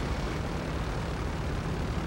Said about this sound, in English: Austin, I'm off landing this jet without its wheels